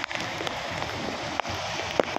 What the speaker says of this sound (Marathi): तो इतका पाऊस हा गेले 2 दिवस झालं पडत आहे